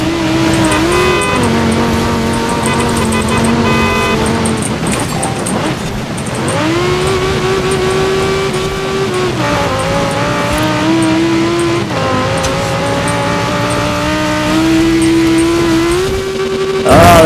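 Audi racing car engine in Forza Horizon 4 on a snowy course, a loud continuous roar that rises and falls through gear shifts and revving with no talk over it.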